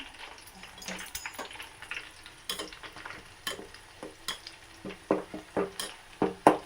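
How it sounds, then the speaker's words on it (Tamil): Leaves frying in oil on low heat until dry and darkened, for a homemade hair oil, giving irregular crackles and pops that grow louder and more frequent toward the end over a faint sizzle, with light stirring clinks. "இடிக்கிற சத்தம் கேட்குது"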